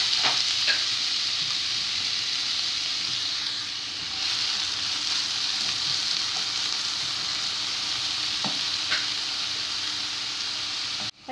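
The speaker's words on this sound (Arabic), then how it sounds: "ها هي كتشحل البصله ديالنا والفلفله" Chopped onion and pepper sizzle in about half a glass of oil in a frying pan, a steady hissing fry close up with occasional stirring clicks and scrapes, ending in a brief knock.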